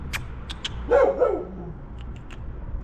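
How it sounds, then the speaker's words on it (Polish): A dog at an outdoor market in Italy gives a short burst of one or two close barks in the middle, set between scattered faint clicks and low background noise. "Piesek szczeka, kotek się boi."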